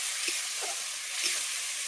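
Cumin, coriander and chili powder frying in a pan with pointed gourd seed paste, giving a loud, even sizzle with a few soft stirring scrapes.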